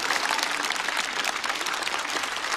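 A stand-up comedy show's studio audience applauds in a dense, even wash of clapping that holds steady throughout.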